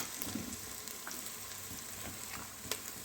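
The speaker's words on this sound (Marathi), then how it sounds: "त्यानंतर मी आता आपण आलं लसूण खोबऱ्याचा जे पेस्ट केली होती ते वाटण मी या ठिकाणी टाकत आहे." Ginger, garlic and coconut paste fries in a hot pan for a sweet-sour tamarind and jaggery dal, giving a dense, continuous sizzle and crackle with light stirring scrapes, close and steady throughout.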